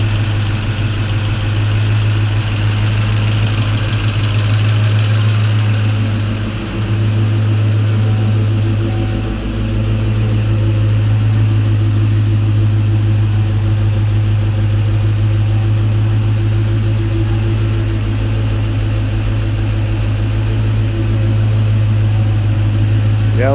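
A 1993 Ford Mustang Cobra V8 idles steadily after a TKO600 transmission install and a month without running, a loud, close, low rumbling drone with a slight dip midway, while people talk over it.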